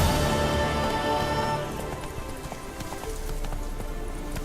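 Horse Roach gallops in The Witcher 3, steady hoofbeats drumming close and loud under a fading musical tone, with quick rhythmic clip-clops throughout.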